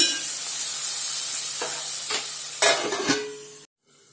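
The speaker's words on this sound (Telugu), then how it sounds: "ఇవి బాగా వేయించుకోండి ఉల్లిపాయలు మంచిగా వేగాలి" Onions fry with salt in a hot pan, giving a steady loud sizzle with a few scraping stirs near the end before an abrupt cut to near silence.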